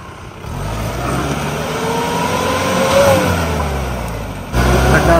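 A Mahindra Scorpio 4WD on an off-road test, its engine running in a steady low rumble with a few rises in revs as it reverses over rough ground, continuous throughout and fairly loud.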